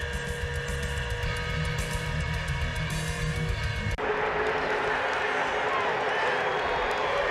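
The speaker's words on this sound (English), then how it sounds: "Listen to the crowd." A large crowd at a NASCAR race at Talladega roars over race engine noise, with a sharp cut midway to a broader, sustained cheer, loud and continuous.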